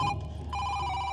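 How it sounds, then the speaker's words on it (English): A telephone rings in the video game Loco Parentis, a short electronic bell tone that cuts out briefly and then resumes, clear and moderately loud. "Oh, that's the phone."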